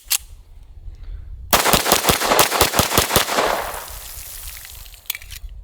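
A 1911 pistol chambered in 9mm rapid-fires a quick string of about ten sharp, closely spaced shots, loud and near, leaving a brief ringing tail, with a stray shot just before and after.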